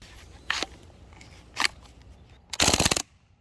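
An Umarex Strike Force blowback .177 BB rifle firing full auto: two short bursts followed by a longer rapid rattling string, close and sharp with quiet pauses between.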